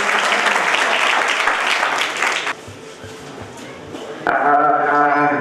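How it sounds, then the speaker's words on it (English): An international university conference audience claps in a dense, loud burst that drops to quieter scattered clapping, before music starts near the end. "Give huge round of applause to Dr. Mohan."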